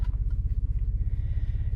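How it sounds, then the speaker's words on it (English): A car with a torn exhaust runs close by, its engine throbbing in a fast, rough low-pitched pulse that stays loud and steady throughout, with no voices over it. "Mr. Frank has got a tear in his exhaust."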